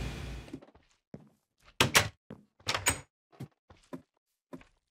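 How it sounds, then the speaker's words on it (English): Blocky wooden doors being shut one after another in a Minecraft house build, giving a series of short, sharp knocks and thunks at uneven intervals, fairly close and loud with no talking. "I need to close these doors."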